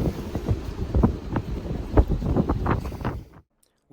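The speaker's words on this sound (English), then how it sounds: "Still real windy this morning." Strong wind buffeting a sailboat at anchor off Montenegro, gusty rumbling blasts against the microphone in uneven surges, loud and close, then cutting out abruptly near the end.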